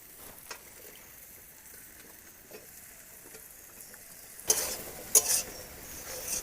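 Cut potatoes and eggplant drop into hot spiced oil in a pan for a mustard greens dish, starting with a quiet low simmer, then a sudden loud burst of sizzling as the vegetables hit, with a few sharp spikes and stirring.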